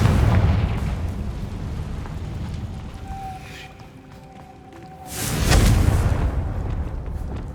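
Confringo blasting spell explosions in Hogwarts Legacy, a broad rumbling blast that fades into a ringing tone, then a second loud boom a couple of seconds later, with a low continuous roar throughout.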